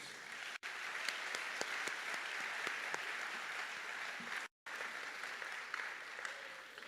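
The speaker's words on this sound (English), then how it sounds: "Can you please help me in giving them a warm round of applause?" A graduation ceremony audience applauds ahead of the national anthem, a continuous, fairly faint wash of many hands clapping that briefly cuts out twice.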